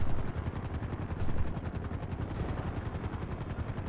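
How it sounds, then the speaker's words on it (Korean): A helicopter circles in the GTA V video game, its steady rotor chop pulsing continuously and fairly loud, with game noise around it and no talking. "지금 헬기가 돌아다니고 있고"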